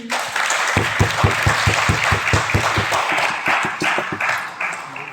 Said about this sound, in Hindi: एक बार 100 किलोमीटर के लिए जोरदार तालियां बजाएंगे।